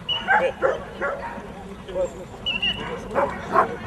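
Macedonian shepherd dogs (Karaman) at a national breed show give short yips, whimpers and barks in scattered bursts, close by, with people talking over them throughout.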